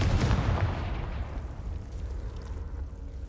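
An explosion from the Confringo spell in the video game Hogwarts Legacy, a single heavy booming blast that hits at once and rumbles away over a few seconds.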